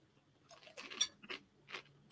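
Chex Mix party snack being crunched close to a sensitive microphone, with several distinct bites and chews spaced about half a second apart, crisp and near.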